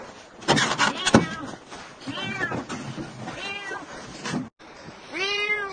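A cat meows repeatedly after being rescued from a roof in Orsk, its calls rising and falling in several clear, close bursts, with a brief silent gap before a final loud meow.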